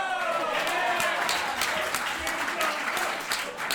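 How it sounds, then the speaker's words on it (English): A studio audience at a comedy talk show claps and cheers in a dense, steady wave of applause that fills the whole stretch, loud and close, with voices mixed into the crowd noise. "Were y'all cheering Kim Jong-un?"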